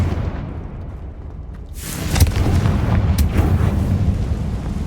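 A Confringo blasting spell goes off in Hogwarts Legacy, a sudden, loud, close explosive burst about two seconds in that swells into a sustained rumbling roar with a couple of sharp crackling hits.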